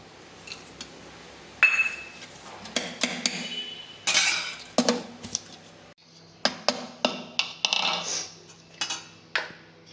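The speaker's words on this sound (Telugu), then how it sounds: "వేరుశనగుళ్ళు ఇప్పుడు వేసేద్దాం" Peanuts dropped into a kitchen mixer jar while making coconut chutney powder, a series of sharp rattling clinks and hard taps in irregular bursts, close and fairly loud.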